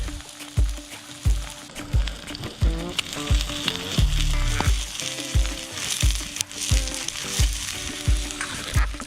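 Food sizzles and fries steadily in a pan over a DIY tin can hobo stove out in the woods, with repeated scraping and stirring knocks at a regular rhythm, close and fairly loud.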